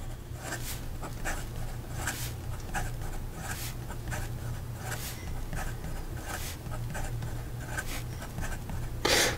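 A MarteModena Citizen fountain pen scratches quickly across paper in a steady run of short strokes, close and crisp over a faint low hum, with no talking.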